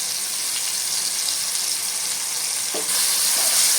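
Mustard and poppy seed paste fries with drumstick vegetable in a pan, giving a loud, dense, continuous sizzle that swells slightly near the end, with no voices.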